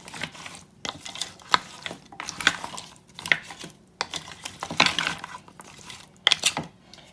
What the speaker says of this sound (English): I'm just going to give that a quick little mix to make sure the veggies get a good coating.